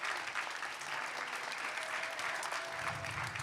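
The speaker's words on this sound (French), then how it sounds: "on peut les applaudir" An audience claps at an innovation forum, steady applause from many hands filling the room without letup.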